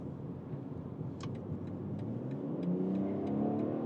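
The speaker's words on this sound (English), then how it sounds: "So when you go off the throttle, then you have this blop, blop, blop, blop, blop." BMW Alpina B3 GT exhaust popping off throttle: a run of faint, quick crackles and pops over a steady, low engine drone from inside the car.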